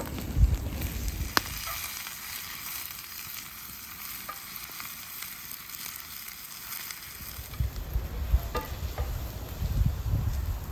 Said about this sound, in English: I'm melting a generous spoon of butter in the pan